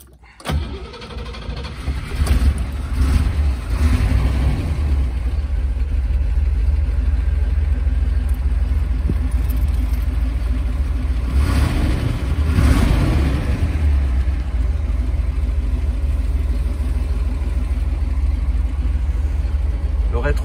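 A 1963 Chevrolet Corvette C2 engine cranks and fires near the start, then settles into a loud, steady, deep idle that runs close by for the rest of the stretch, with a couple of slight swells in level.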